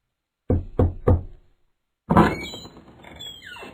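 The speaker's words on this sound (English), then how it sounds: "Mrs. Crane knocks at the door and Mr. Fox opens it." Three distinct knocks on a door in an even rhythm, close and clear, followed by a pause and then a voice speaking.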